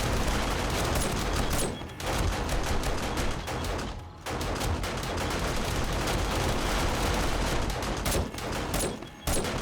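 Turrets in a video game fire almost continuously in dense rapid bursts, a loud chattering barrage with only a few brief pauses.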